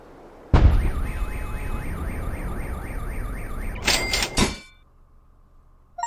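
A car alarm in the Henry Stickmin Collection video game wails loudly with a steady warbling siren for about four seconds. It ends in a burst of harsh electronic tones, then cuts off into near silence.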